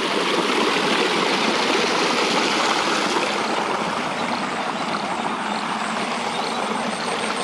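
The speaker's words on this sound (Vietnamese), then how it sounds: "Suối đá." A rocky stream at night rushes in a dense, steady broadband wash, loud and unbroken throughout.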